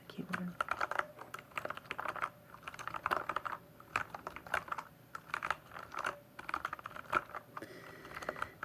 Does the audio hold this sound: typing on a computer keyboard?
yes